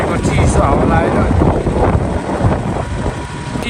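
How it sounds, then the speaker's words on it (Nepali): Cold wind at Dhorpatan in Nepal buffets the microphone with a constant loud, rumbling roar that barely lets up. "चिसो हावा लागेको छ"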